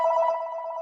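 A mobile phone goes off indoors, a steady electronic ringtone with a sustained tonal buzz that holds at an even level for under a second, close and clear with no talking over it.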